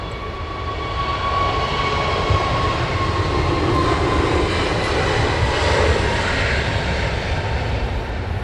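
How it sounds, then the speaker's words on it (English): An aircraft rolling for takeoff at Heathrow Airport gives a loud, steady engine roar that holds without a break from start to finish, with no voices. "Next aircraft now rolling."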